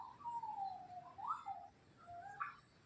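A single bird calls outdoors on a rainy, windy day in a garden with fruiting jamun trees, giving a few soft, drawn-out whistling notes in two phrases, fairly faint and alone over quiet background.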